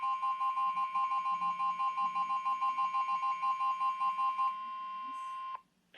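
A phone sounds a flash flood warning alert, a loud repeating two-tone electronic pulse beeping rapidly and evenly for several seconds, then falling silent before a short burst of sound at the end.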